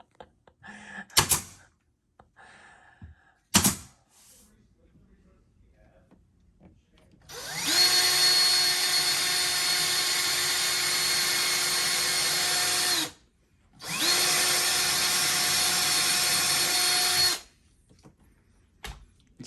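A power drill bores into a raised wood panel during a TV mount and panel installation, running in two sustained, loud bursts of roughly five and three seconds, preceded by a couple of sharp knocks and faint background sounds.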